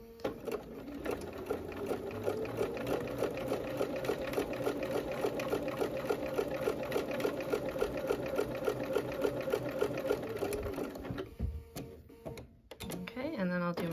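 A sewing machine stitches a diagonal line across a snowballed quilt corner, running in a fast, steady rhythmic chatter for about eleven seconds before stopping, followed by a brief handling clatter.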